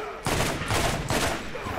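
Rapid gunfire from a firearm in the shooter game Borderlands, a dense, loud burst of repeated shots in quick pulses throughout.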